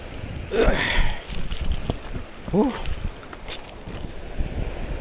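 Sea wind gusts against a microphone during a squid fishing trip, producing uneven low rumbling buffets that swell and fade, with a few brief squeaks among them.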